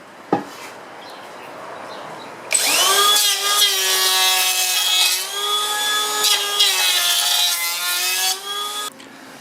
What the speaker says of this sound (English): Now I'm going to make the shavings with this battery planer here, set on its chunkiest level.